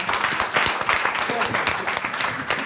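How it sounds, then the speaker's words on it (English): Brief audience applause at a film festival panel in Berlin, a dense burst of clapping heard close and fairly loud. "Another round of applause."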